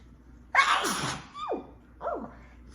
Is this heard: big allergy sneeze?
yes